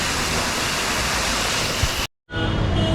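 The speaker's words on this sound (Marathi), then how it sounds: "तिथे तो बघा धबधबा" A waterfall near Matheran during heavy monsoon rain roars as steady broadband rushing noise, close and loud. It cuts out briefly for a moment of silence and then returns.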